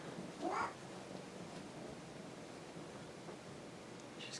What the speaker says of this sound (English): Cat is just going to jabber at him all day.